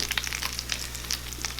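Red spice sauce for fried pasta being stirred in a frying pan: quick, close scraping strokes and light sizzling bursts over a low, steady hum, with no one talking.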